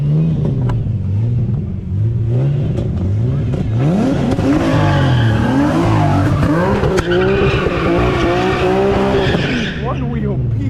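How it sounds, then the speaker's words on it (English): At a car meet, a car does a one wheel peel, its engine revving hard while a single tire squeals and skids loudly for several seconds, with people talking and shouting over the noise. "One wheel peel."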